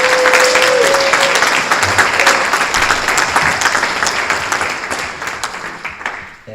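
A room full of people applauds at a sports cup final, steady clapping that gradually fades, with a brief tone near the start.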